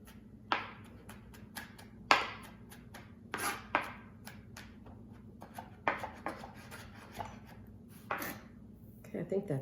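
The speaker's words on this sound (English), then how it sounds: "So focused on this chopping and mincing." A kitchen knife chops and minces garlic on a cutting board, giving a dozen or so irregular sharp taps with pauses and a quicker flurry near the end. The taps are quiet and close against a soft low hum.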